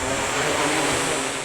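A drone hovering during a demonstration for kids, its rotors producing a loud, steady broadband whir with a high whining tone, close and continuous without talk.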